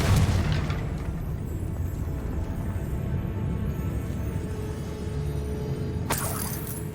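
A Confringo blasting spell explodes in the Hogwarts Legacy video game, opening with a loud booming burst, then settling into a low steady rumble before another sharp crack near the end.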